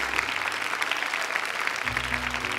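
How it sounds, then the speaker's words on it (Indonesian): Brief applause for a jury panel on a Quran memorization show, steady clapping of moderate loudness with a low tonal hum entering near the end. "Tepuk tangan untuk para dewan juri."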